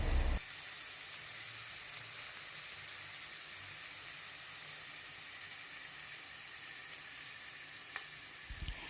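Steady, dense sizzling of eggplant and potatoes frying in hot oil, a constant crackling hiss close by, with a brief clatter at the start and end.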